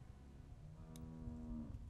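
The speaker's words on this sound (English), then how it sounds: "How do you like that cow, Clem?" A cow moos inside The Walking Dead Season 1 video game, one long, low, harmonic bellow that swells from about a second in and fades near the end, standing clear over a steady, rumbling ambient background.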